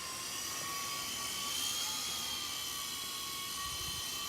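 A Sky Rover Phoenix 4-channel RC helicopter buzzes steadily near full throttle, a constant high-pitched whine with a dense broadband hiss and wind-like rush, holding level throughout with no pauses.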